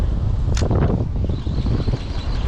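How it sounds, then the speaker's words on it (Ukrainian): Steady roaring crosswind buffets the microphone while fishing on the Dnipro river, a low rumbling gusty noise throughout, with a brief faint high whistle early on. "В нас сьогодні лютий вітер, боковий."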